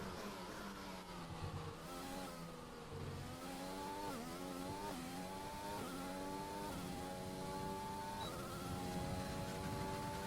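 Formula One car from the F1 2020 video game on a qualifying lap at Japan, engine screaming steadily with rising and falling pitch through gear shifts, loud and continuous with no talk.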